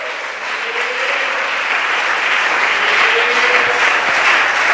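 A church congregation applauds during a sermon, thick sustained clapping that grows slightly louder and steadier across several seconds, with a few faint voices underneath.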